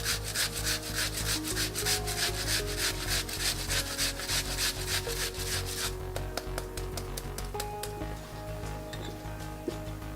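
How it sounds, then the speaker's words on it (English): Onion rubbed briskly against a metal cheese grater, a fast, rhythmic rasping scrape that is loud and close and carries on steadily before easing toward the end, with no voices. "I'm adding some onion and I'm using the cheese grater as well."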